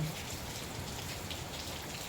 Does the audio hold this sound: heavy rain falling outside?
yes